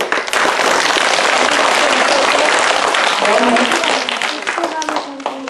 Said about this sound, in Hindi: तो एक बार सब लोगों के लिए तालियां हो जाए